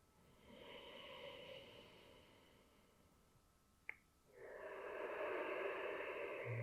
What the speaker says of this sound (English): A nice big breath, filling up the abdomen, and the chest is expanding out